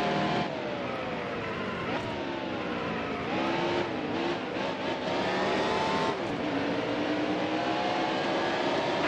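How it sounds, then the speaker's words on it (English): Race car engines roar in NASCAR Heat Evolution at Martinsville, a loud continuous drone whose pitch rises and falls as the cars accelerate and run side by side around the short track, with no talking. "We're side by side with Allmendinger for 16th."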